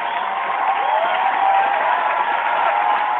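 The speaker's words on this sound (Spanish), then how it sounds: "le vamos a meter aplausito" A crowd applauds in a steady, continuous wash of clapping that sounds muffled and slightly distant.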